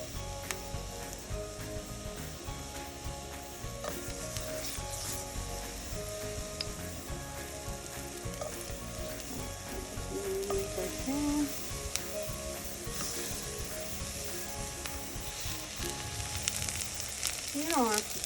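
Eggplant slices frying in olive oil in a pan, a continuous moderate sizzle and spatter with faint clinks and brief shuffling sounds from handling, lasting the whole stretch at close range.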